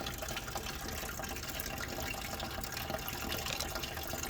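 Coolant drains from the radiator of a Mercedes-Benz W202 in a steady, faint trickling and splashing that runs without a break, heard alone at a low level.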